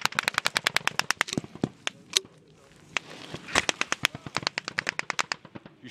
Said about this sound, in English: They're just shooting over our heads.